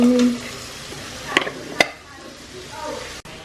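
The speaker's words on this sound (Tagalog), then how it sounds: "Magluto siya ng corned beef." Corned beef sizzles softly in a pan, with a couple of sharp clinks of a utensil against the pan and a faint stirring scrape.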